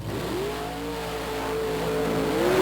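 A big-block Chevrolet engine in a mud racing truck revs hard at a mud racing nationals in Panama City, Florida, its loud tone climbing as it rises steadily over a low rumble.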